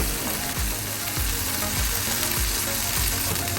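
Chaozhou-style oyster omelette sizzles steadily in a wok. Repeated scraping strokes from a spatula cut through the loud, continuous frying, with no talking.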